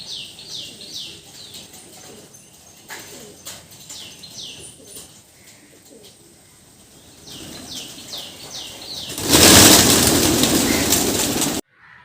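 Pigeons flap their wings in short fluttering bursts after feeding on scattered rice, followed by a louder rush of wingbeats as birds take off; faint cooing and quiet background sounds.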